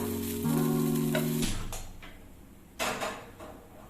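Small fish sizzle as they fry in a pan, with a steady crackle and a few clinks of utensils against the pan.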